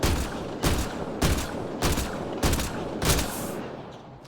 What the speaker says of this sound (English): I might as well fucking shoot them now